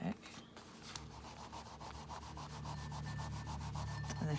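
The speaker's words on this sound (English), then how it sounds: "if you rub it really quick, it rolls up, and then you won't have glue" Quick, steady rubbing of dried Fabrifix fabric glue so it rolls off, a soft continuous scratchy friction over a faint low hum, close and fairly quiet.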